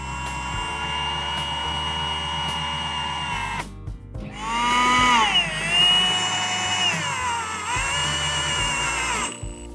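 A power tool drives thread-forming screws coated with anti-seize into a Pro Bed Rack on a Toyota Tundra, whining in two close, loud bursts with the pitch sagging and rising under load.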